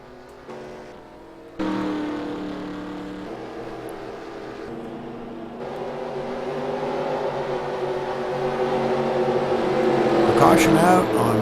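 Race cars at Talladega during a pit stop in a Gen 6 Dyno League race, engines droning steadily and swelling louder toward the end, with a commentator speaking over the noise.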